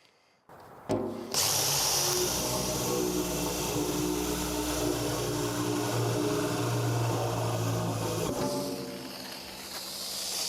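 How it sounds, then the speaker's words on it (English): A power drill bores air holes in the side of a steel oil drum being made into a pitfire kiln, a loud, steady whine with grinding hiss that runs for about seven seconds after a brief start, then cuts off. "And now we're ready to drill."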